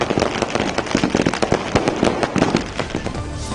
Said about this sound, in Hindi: आसमान में जमकर आतिशबाजी